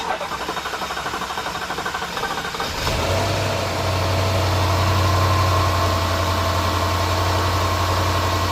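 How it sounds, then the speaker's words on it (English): A Jaguar XF 5.0 V8 with a freshly repaired head gasket and timing chain cranks briefly, fires at about three seconds and settles into a steady, even idle close by. "try to start the car up now, and try to see if it'll start"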